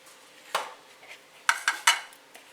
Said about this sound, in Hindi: सर्विंग प्लेट में डाल रही हूँ मैं।